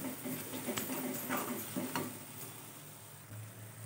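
Turmeric and homemade red chilli masala frying in oil, a low, steady sizzle with faint scraping and light ticks of a spoon stirring it, quiet and continuous throughout.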